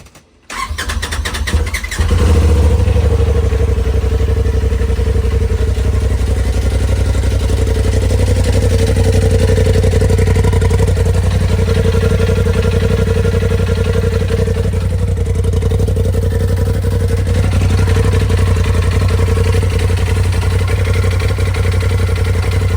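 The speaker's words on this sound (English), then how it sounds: "So now I'm just gonna fire it up, make sure we don't have any leaks." A Polaris RZR engine cranks briefly, catches, then settles into a loud, steady idle with a low, even rumble that carries on unbroken for the rest of the time.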